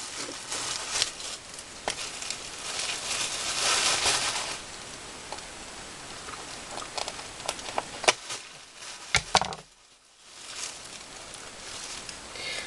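Crisp crackling and rustling of plastic wrapping and paper as packaged paper pads are opened up close, with scattered sharp crinkles and taps, a brief quiet gap, then more handling.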